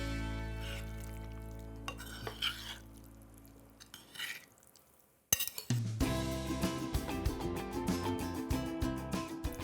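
Fish mixture being stirred with capers and mayonnaise in a Greek kitchen: gentle repeated clinks and scrapes of a utensil against a bowl, quiet at first, then a denser run of stirring with music underneath.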